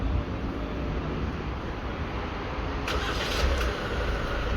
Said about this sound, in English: you have remote engine start